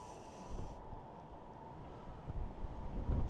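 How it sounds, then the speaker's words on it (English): Blustery wind buffeting an earbud microphone outdoors, a rough low rumble that swells and surges toward the end, loud and close with no speech. "Got a nice gust of wind going on"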